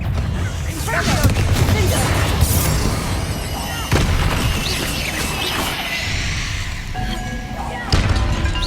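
Confringo blasting spell explosions in Hogwarts Legacy, a series of loud booming crashes and thuds with whooshing debris over a dense rumbling game soundscape, close and forceful.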